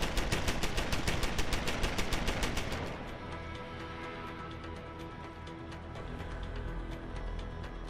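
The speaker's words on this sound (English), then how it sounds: "Unfortunately, the turret is shooting" Automated turret in Deus Ex: Human Revolution firing a fast rattling burst of rapid shots, then continuing more sparsely under background game noise, no talk.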